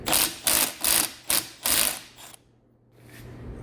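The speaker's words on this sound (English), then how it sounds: "I just use a crescent wrench to loosen this up" A crescent wrench loosens the speedometer sensor on a Jeep XJ or MJ manual transmission: five short, sharp metallic bursts in quick succession, close and fairly loud, then near silence.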